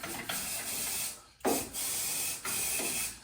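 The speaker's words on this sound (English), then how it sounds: "spray it on the moving parts" Three short bursts of aerosol lubricant spray hiss close by onto moving parts of woodworking equipment, each a second or so long, separated by brief pauses.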